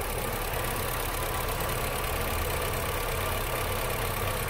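A Honda City engine idles smoothly and evenly without misfiring, a steady close mechanical hum and patter with no breaks in rhythm.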